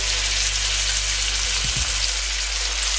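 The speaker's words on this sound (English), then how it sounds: "So we're gonna fry these up in this butter and oil." Pork chops fry in butter and oil in a skillet, giving a steady, close, loud sizzle over a low hum, with no talking.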